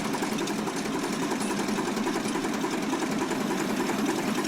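Tractor engine in Farming Simulator 19 with Seasons and Precision Farming mods, a steady droning rumble that runs continuously at even loudness with no pauses and no voices.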